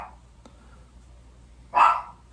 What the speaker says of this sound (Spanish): ¡Este pinche perrito!